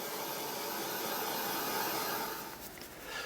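A hair dryer blows steadily at close range over fresh white acrylic paint splatters on a stenciled canvas, a continuous broadband whoosh that eases slightly near the end with no voices.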